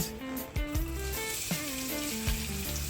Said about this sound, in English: I'm going to add some coconut oil because I'm going to fry up my onions first and my garlic.